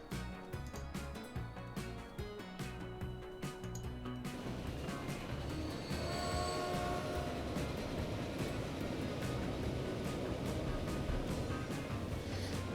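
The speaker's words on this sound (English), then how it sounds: "there's another train going there" Steam train running in the Transport Fever game, a continuous rumbling rail sound with rhythmic clatter that grows fuller and louder partway through, heard alone without talk.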